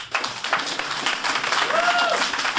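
A church congregation applauds and cheers the Lord, a dense continuous wash of clapping with voices mixed in and a brief rising tonal cry near the end.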